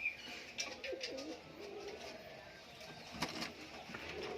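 Soft, low pigeon coos repeat close by in a quiet loft, from a male Murshidabad Bali pigeon, with light rustling and faint thumps around them.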